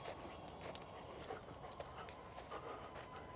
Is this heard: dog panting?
yes